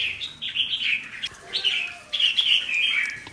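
A red-whiskered bulbul sings a series of bright, clear whistled chirps in several rising and falling phrases, close and fairly loud, with no voices.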